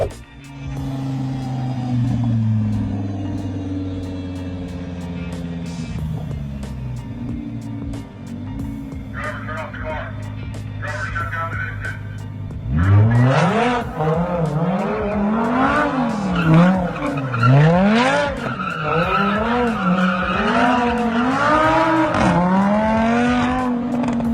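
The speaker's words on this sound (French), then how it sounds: "passons maintenant à la vidéo d'une Lamborghini essayant d'échapper à la police." A Lamborghini fleeing police revs hard and sends out long, wavering tire squeals. A sustained engine drone comes first, then repeated rising and falling screeches of rubber, loud and close.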